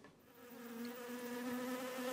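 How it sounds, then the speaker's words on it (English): A swarm of bees gives a steady, rising drone with a clear pitched buzz, faint at first and growing slightly louder, with no voices. "A swarm of bees settles on the flowers."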